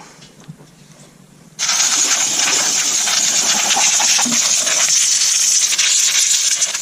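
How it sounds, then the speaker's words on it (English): Compressed air blasts in a loud, steady hiss that starts abruptly and runs continuously to the end, blown over a Buick Lucerne 3.8 engine during an intake gasket replacement, after a quieter stretch of faint shop noise. "Nice to have a little compressed air."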